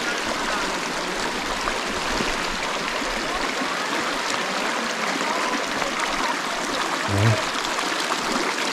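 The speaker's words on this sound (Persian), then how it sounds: "حالا رودخونه" A river stream in Owzkola village in northern Iran, flowing with a continuous broad rushing and babbling wash, steady and fairly close, with one brief low thump near the end.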